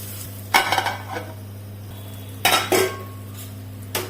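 A hot tempering of dried red chili and curry leaves goes into a brahmi (thimare) chutney and is mixed in. Three short, close bursts of clattering utensils and stirring against a vessel rise over a low steady hum.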